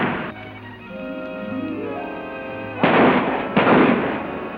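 Two heavy, booming gunshots ring out in a 1950 western, breaking through a sustained orchestral score a moment apart, loud and close, with no voices over them.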